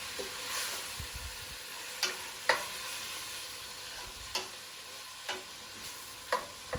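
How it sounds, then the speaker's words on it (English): Tomatoes and eggplant fry in a pan and are stirred, with a soft, steady sizzle broken by several sharp spoon scrapes and taps at uneven intervals, faint and close. "I'm going to stir that really well."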